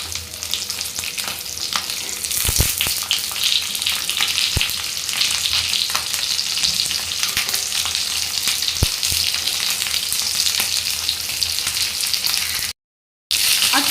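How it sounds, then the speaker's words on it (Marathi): Green chilies frying in a pan give off a steady, loud sizzle and crackle that runs throughout, broken by a few sharp pops and a brief drop near the end, with no voices. "फ्राईंग पॅनमध्ये फ्रायसाठी सोडूया अशा पद्धतीने आपल्याला मिरच्या ठेवायच्या आहेत"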